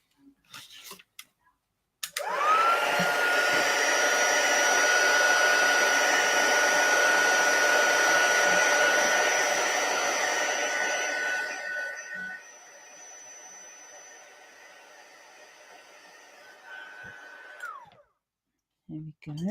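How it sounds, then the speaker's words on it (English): Heat gun used for crafting blows a steady loud whooshing hiss with a constant whine, running about ten seconds before fading and switching off, close to the microphone. "I'm going to use the heat gun."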